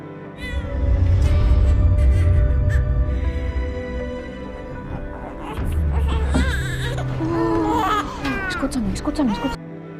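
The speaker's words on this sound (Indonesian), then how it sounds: "si bayi akhirnya bisa bernapas dan mulai menangis" A newborn cries in thin, wavering wails, close and fairly loud, over a steady low rumble and hum.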